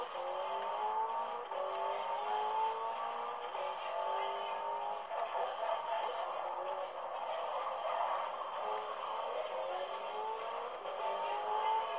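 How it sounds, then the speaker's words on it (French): The engine of a T20 car in the video game Forza Horizon 2 drones at a steady, high-revving pitch, with rising gear sweeps as it speeds along, fairly faint and with no talk over it. "Je sais pas si vous entendez, mais le son de la voiture, les gens"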